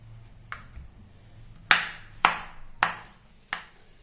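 Knife chopping bottle gourd and onion on a board: five sharp, separate thuds spaced roughly half a second apart, close and clear, with quiet pauses between them.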